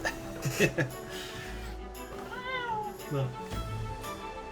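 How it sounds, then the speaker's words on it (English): A cat meowing somewhere behind a person who is talking, producing a rising, drawn-out meow partly under the speech, with a few shorter cries around it. "Also, there's a cat behind me."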